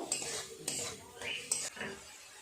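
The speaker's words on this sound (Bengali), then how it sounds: "খুব ভালো করে মশলাটাকে একটু কষিয়ে নেব" Spice paste with tomato being stir-fried for a jackfruit and prawn curry, a spoon scraping and clinking against the pan in several distinct strokes over a soft sizzle, close up with no talking.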